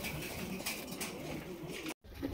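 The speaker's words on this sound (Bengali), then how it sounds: "চমৎকার এক জোড়া আপনার ব্ল্যাক টেল মার্ক কবুতর, একদম বিগ সাইজের" A big black tail mark pigeon pair coos softly and steadily on a farm, with low, overlapping pigeon calls and a brief dropout near the end.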